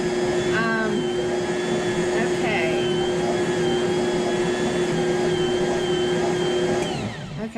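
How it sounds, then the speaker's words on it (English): An electric mixer works rye bread dough with yeast, a loud steady whine that drones close for about seven seconds and then winds down, with faint voices beneath it. "We're going to start mixing this, and the yeast is going to get mixed in."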